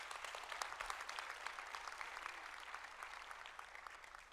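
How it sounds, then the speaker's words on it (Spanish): Church congregation applauding at a Spanish-language service, a steady wash of clapping from many hands heard at a moderate distance, sustained and fairly even throughout. "Denle un aplauso al Señor"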